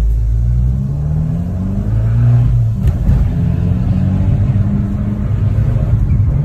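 A car engine roars and revs up loudly up close, a steady rumbling acceleration filling the whole stretch.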